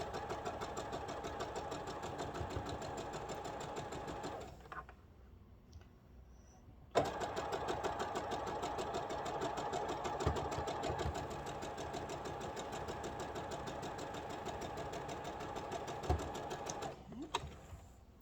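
A sewing machine stitches steadily while piecing a quilt top, its hum running continuously near and loud, pausing briefly for a couple of seconds before starting up again and continuing.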